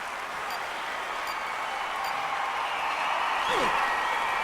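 A crowd in an Olympic track cycling velodrome in the London 2012 video game applauds and cheers in a steady, dense wash throughout, swelling slightly toward the end, with a commentator speaking over it.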